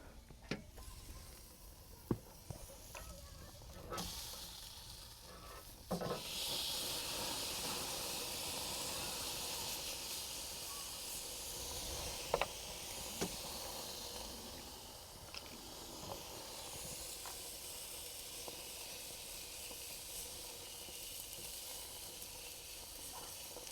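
Steak sizzling on a tailgate grill at a solo overnight campsite, a steady broadband hiss running throughout with a few sharp pops and clicks, fairly close and moderately loud.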